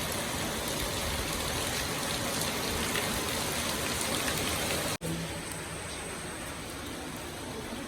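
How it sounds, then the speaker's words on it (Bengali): Heavy rain pours steadily in a flooded outdoor area in Bengal, a dense continuous hiss of drops on surfaces, loud and close, with a brief dropout about five seconds in before the downpour resumes. "জোরে বৃষ্টি চলে এসছে"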